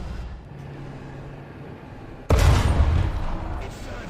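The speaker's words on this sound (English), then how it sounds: "Let's see about firing directly straight ahead and see what the recoil's like there" Aircraft guns in War Thunder open fire with a sudden loud burst of rapid gunfire that cuts in partway through, over a quieter steady engine drone.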